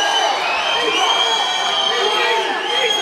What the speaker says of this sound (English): The crowd here at the Kentish Town Forum coming alive